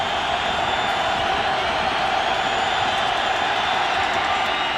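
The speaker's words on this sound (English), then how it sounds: "Here's the crowd on 3rd and 18." A stadium crowd roars steadily at a Redskins–Raiders NFL football game in Oakland, 2009, on a third-and-18 play. The noise is loud, continuous and broadband, with no pauses and no clear speech.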